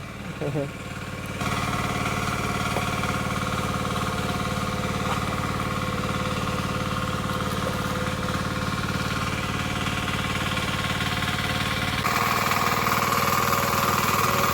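A tractor ploughs a flooded rice paddy in the Konkan, its engine a steady, close, loud drone with a rattling mechanical knock that holds for the whole stretch before shifting tone near the end.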